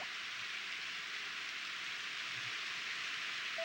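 Steady rain falling in the Harvest Moon farming video game, a constant soft hiss of rainfall with no other sounds.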